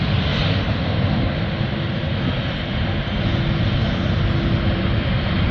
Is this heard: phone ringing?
no